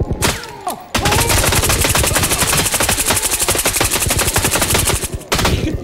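Rapid automatic gunfire in a first-person shooter video game, a dense burst of shots lasting over four seconds after a brief single shot, loud and close with no talking.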